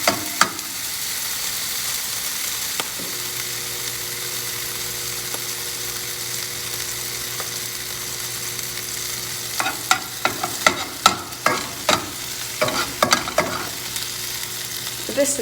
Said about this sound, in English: using this wide spatula, I will flip it over. Get the other side toasty and melted.